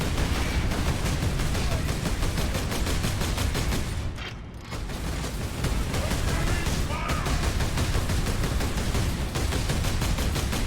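Bolter gunfire in Warhammer 40k: Space Marine, dense rapid volleys of loud shots hammering almost nonstop, with a brief lull midway before the firing resumes.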